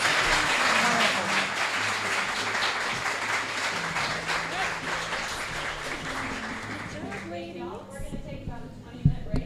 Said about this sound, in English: Can you please get a round of applause?